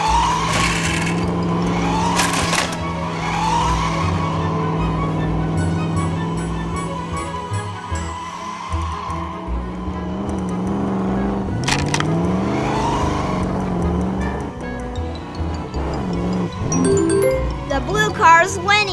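Toy race cars speeding and skidding around a play track with a slip section and loop: squeals, whooshes and rattling rolls keep shifting over bright ding-like tones, under a running voice commentary.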